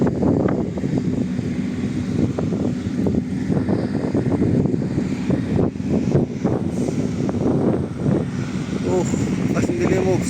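Strong sandstorm wind sweeping through an afternoon in Saudi Arabia, a steady loud roar and buffeting across the microphone throughout, with someone speaking intermittently over it.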